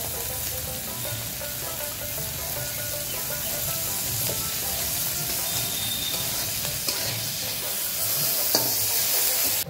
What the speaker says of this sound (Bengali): চাপা ভাজার জন্য অল্প করে দিয়ে দিব তেল।